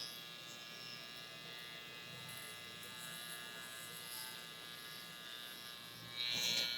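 An electric hair clipper buzzes steadily while trimming around a client's ear in a barbershop, a close, continuous hum that grows slightly louder near the end.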